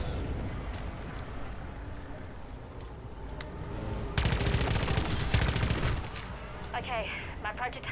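SMG gunfire in MW3 Zombies, dense rapid bursts of automatic fire close and loud, one long sustained burst in the middle, with game effects and a voice around it.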